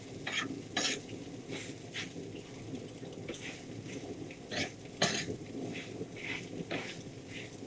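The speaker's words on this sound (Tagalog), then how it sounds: "At habang hinahalo natin siya, isabay na natin yung asin para maluto na rin yung asin nga sa ating sinangag na kanin." Garlic fried rice (sinangag) is stirred in a pan for breakfast, giving repeated scraping and clinking strokes of a utensil over a soft, continuous sizzle, fairly quiet and close.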